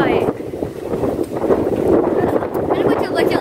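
Strong gusty wind buffets the microphone in a continuous rough roar, heard near a boat engine at a harbour, with voices talking underneath.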